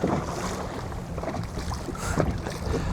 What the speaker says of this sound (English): The wind is insane right now.